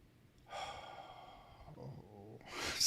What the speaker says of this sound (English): it's just a lot of breathing